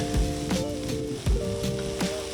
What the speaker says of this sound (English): Once the onions are translucent, yellowish in color, add in your ground beef.